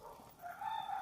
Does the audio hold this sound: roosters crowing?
yes